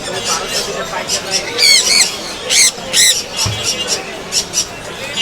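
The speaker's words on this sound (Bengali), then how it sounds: "পাখির বাচ্চাগুলা খুব সুন্দর লাগছে এই দুইটা পাখির দাম চাওয়া হচ্ছে দুই লক্ষ আশি হাজার টাকা" Birds squawk and chirp in bursts at a crowded bird market in Mirpur 1, Dhaka, sharp repeated calls rising over a busy murmur of people talking nearby.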